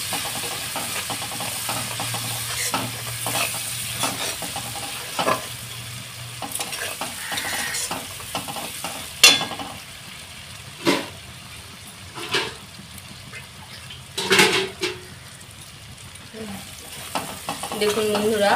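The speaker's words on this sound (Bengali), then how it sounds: "দিয়ে আমি মশলাটাকে ভালোভাবে কষিয়ে নেব" Spice paste with Kashmiri chili powder and turmeric frying and being stirred in oil, a continuous close sizzle broken by sharp spatula scrapes and knocks against the pan.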